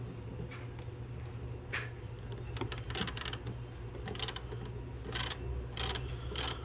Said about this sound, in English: So I'm just going to take a 10mm ratchet and remove this.